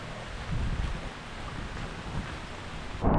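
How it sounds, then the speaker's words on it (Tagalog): Typhoon Uwan sweeps across a Philippine papaya and banana farm with heavy rain and gusting wind as a steady, dense roar, deep rumbling underneath and a sharp cut-off near the end. "akala ko po tapos na ang bagyo"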